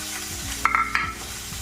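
Chopped garlic and onion hitting a pan on a gas stove, a steady close sizzle with a brief metallic utensil clink in the middle.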